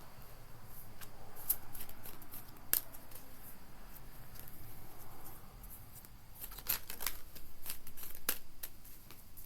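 Tarot cards being shuffled by hand, soft close riffling and flicking bursts repeating irregularly, quiet and alone.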